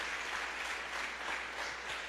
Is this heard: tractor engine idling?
no